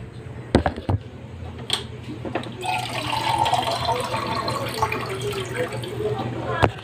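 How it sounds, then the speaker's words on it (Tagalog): Tap water runs into a cooking pot in a home kitchen, a steady splashing rush after a few clanks and knocks, heard fairly close with faint background noise. "Nalagyan ko na tubig mga pre."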